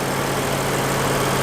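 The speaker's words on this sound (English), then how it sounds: "I can't show you guys the car without showing you guys the glorious 5-liter V8 engine." Lexus RCF's 5-liter V8 idles steadily, a continuous low engine rumble held close and loud throughout, with no voices over it.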